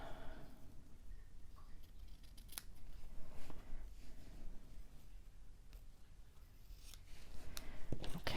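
Scissors trimming paper pieces for a Bo Bunny Boulevard scrapbook mini album, with a run of quiet close snips and soft rubbing of paper and no talk.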